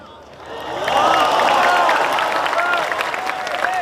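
A crowd claps loudly at an Islamic religious lecture, swelling into a dense, continuous burst of applause that stays strong to the end, with a voice faintly under it.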